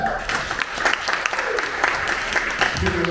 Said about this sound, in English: Have a big round of applause for them